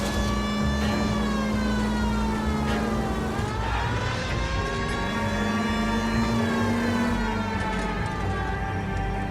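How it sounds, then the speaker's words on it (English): A continuous police car siren in the video game L.A. Noire wails with slowly shifting pitch, loud and steady over engine-like rumble, no voices. "We're making an arrest, so LAPD can turn on the freaking sirens."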